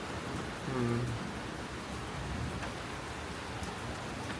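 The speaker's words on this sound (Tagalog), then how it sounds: "Ay, lumakas pa tuloy yung ulan." Heavy rain on a street in Split, Croatia, pouring as a steady, dense hiss that stays loud and even throughout, with no talk.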